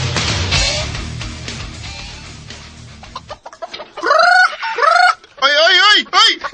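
Loud chicken squawks and clucks burst out in several bursts after a stretch of muddled background talk and noise.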